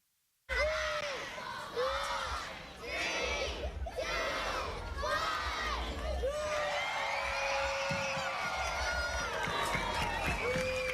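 A lively outdoor Christmas in the Square crowd in Grand Bahama, with youngsters and residents shouting, cheering and clapping continuously, children's voices rising above a dense wash of chatter as students perform.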